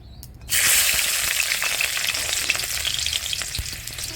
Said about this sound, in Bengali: আমার তেল গরম হয়ে গিয়েছে, দিয়ে দেবো রসুন